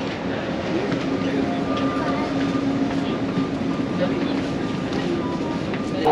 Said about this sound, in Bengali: নিচ দিয়ে চলতেছে মেট্রোটা